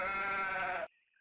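A sheep bleats in the PS1 video game Suikoden II, one loud sustained quavering bleat that cuts off abruptly, with no talk over it.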